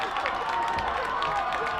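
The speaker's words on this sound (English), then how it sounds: "this crowd going absolutely bonkers here at Hampshire Field" An excited crowd at a girls' high school soccer game at Hampshire Field cheers and claps after a late goal, a lively mix of shouts and applause with voices blended in.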